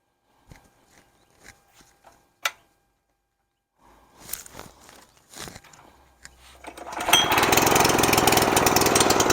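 A California Trimmer lawn mower starts with one pull after a few scattered clicks and footsteps, then settles into a loud, steady engine drone close by for the last few seconds.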